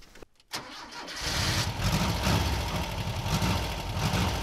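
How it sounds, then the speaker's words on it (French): A car engine, fitted with its air filter and run without starting fluid, cranks briefly, then catches and settles into a steady, close idle. "est-ce que ça démarre avec le filtre à air et sans start pilote?"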